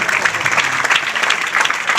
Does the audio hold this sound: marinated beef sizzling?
no